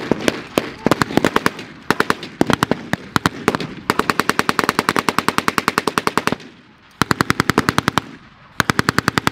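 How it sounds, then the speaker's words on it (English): Heavy machine gun fire exchanged during a battle reenactment show at Tanks, Trucks & Firepower 2022: long, loud, rapid bursts of sharp shots separated by brief pauses, close and dense, with no voices. "Immense amount of fire being exchanged between the two."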